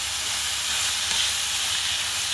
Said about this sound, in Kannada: ಅದು ಹಸಿ ವಾಸನೆ ಹೋಗಿ ಚೆನ್ನಾಗಿ ಫ್ರೈ ಆಗೋವರೆಗೂ ಫ್ರೈ ಮಾಡ್ಕೊಳ್ಳೋಣ